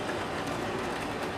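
A steady rumbling N gauge model train running along its track, continuous and fairly close, with a faint rhythmic clatter and no voices.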